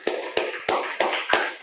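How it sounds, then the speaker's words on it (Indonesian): Classmates clap for a student during an Islamic studies lesson, a handful of sharp, evenly spaced claps about three per second, close and moderately loud over a murmur of room noise. "Tepuk tangan buat Abel."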